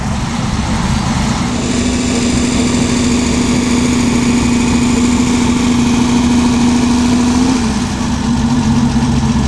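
A Ferrari GTO engine runs at a concours event, a loud, close, steady idle with a sustained droning tone that dips slightly near the end, no talk over it.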